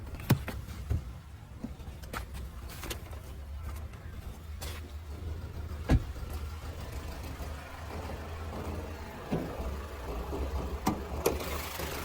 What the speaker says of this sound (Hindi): ये है 2000 CC inline 4 cylinder 4th generation common rail direct injection Mercedes Benz OM 654 diesel engine